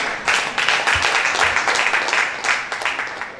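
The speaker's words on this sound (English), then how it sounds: "Mr. Owosheni, a round of applause for him" A crowd at an International Day of Persons with Disabilities event breaks into applause, a dense steady clatter of many hands clapping at moderate volume for several seconds, slowly tapering.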